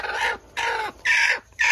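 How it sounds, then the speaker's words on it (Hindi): A hen sitting on eggs in a poultry area, giving four loud, drawn-out squawking calls in an even rhythm, close by with short silent gaps between them. "ये मुर्गी है गाइस"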